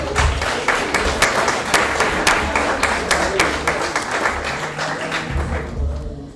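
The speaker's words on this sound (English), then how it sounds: "Another round of applause, please" Student audience applauding a newly announced student champion at a 2025 university election results event, loud, close clapping with sharp individual claps and low thumps, steady throughout and then dropping away at the very end.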